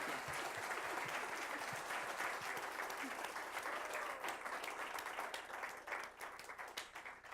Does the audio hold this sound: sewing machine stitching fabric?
no